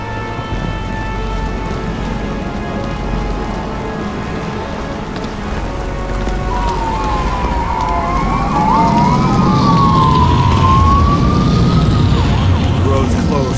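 A police car siren wails in the game Nobody Wants to Die, its sweeping tone rising and falling from the middle of the stretch onward, growing louder over rain and a steady low rumble.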